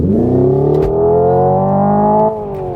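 Simulated engine sound from a Hyundai IONIQ 5N, a 650 hp electric car that imitates gear shifts: a loud, steady synthetic engine drone that rises in pitch, breaks briefly for a mock gearchange early on, then dips again near the end.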